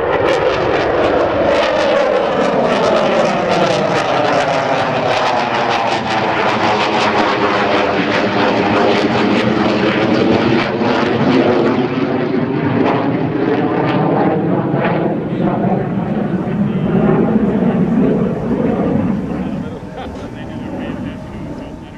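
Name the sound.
US Navy Tailhook Legacy flight aircraft passing at airshow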